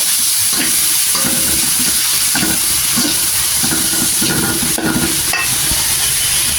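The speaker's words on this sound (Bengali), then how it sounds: "নেড়ে দিব" Ginger-garlic paste and chili powder being stirred in a hot frying pan, a steady loud sizzle with repeated scraping strokes of the spoon throughout, no talking.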